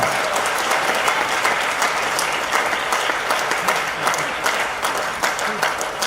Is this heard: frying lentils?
no